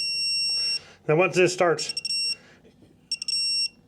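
A digital torque wrench adapter used on motorcycle bolts gives off a steady high-pitched electronic beep, cutting out as a person talks, then returning in pulsing bursts and a held tone.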